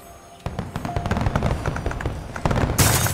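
A firework from a small gun-type launcher goes off in the video game Glittermitten Grove, giving a fast loud string of crackling pops that ends in a sharp bright burst.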